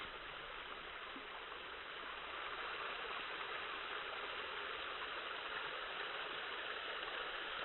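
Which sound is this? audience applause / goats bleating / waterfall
waterfall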